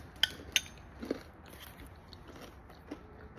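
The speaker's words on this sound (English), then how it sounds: "if you can hear me chewing loud" Close-up crunchy bites followed by softer chewing sounds, a few sharp crunches early on then quieter mastication, heard alone, picked up through AirPods.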